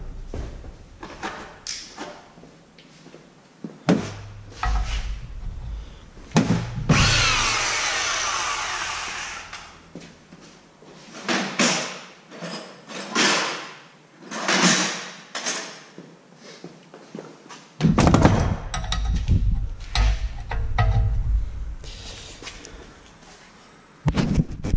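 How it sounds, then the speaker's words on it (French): Workshop work removing the rear shock absorber from a Peugeot 106 XSI/S16 with a faulty rear axle: loud, intermittent bursts of power-tool whirring alternate with metallic clunks and knocks, close by. "Alors on va enlever l'amortisseur en premier."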